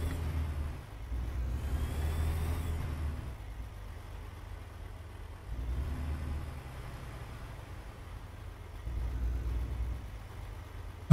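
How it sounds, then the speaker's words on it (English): Truck engine in American Truck Simulator on a Texas highway run, a steady low drone that swells in three louder bursts and eases back between them, moderately loud with no talking. "Oh, you might hear a lot of truck in this one."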